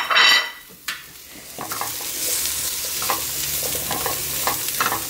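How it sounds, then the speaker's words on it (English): Vegetables warm in a pan alongside zucchini, giving a steady sizzle broken by scraping and clinking as they are stirred with a utensil, and no talk. "So I'm going to get these in the pan with my zucchini"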